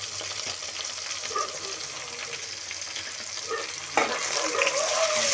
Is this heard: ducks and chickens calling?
no